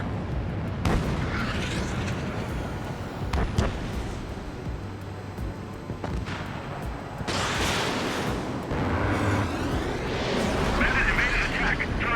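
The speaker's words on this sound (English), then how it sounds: "Missile launched." A missile launch in the video game Ace Combat 7 roars amid a constant heavy engine rumble, with booming, explosive surges building and fading, while a voice speaks over the cockpit noise.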